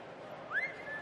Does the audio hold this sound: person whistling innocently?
yes